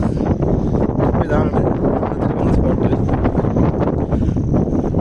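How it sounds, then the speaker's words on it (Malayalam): Strong wind sweeps across a hilltop camping spot, a loud continuous roar and buffeting against the microphone throughout, with someone briefly speaking under it. "നല്ല കാറ്റുണ്ട് കേട്ടോ."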